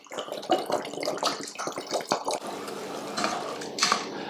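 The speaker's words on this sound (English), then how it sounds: "All I'm going to do is pour it into the mix." Liquid from a pint bottle pours into a homemade hot chili pepper sauce mix, giving a close, splashing, gurgling trickle with scattered drips, alone and fairly quiet.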